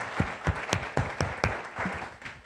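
A church congregation claps in a sparse, irregular run of sharp hand claps, several distinct beats close by.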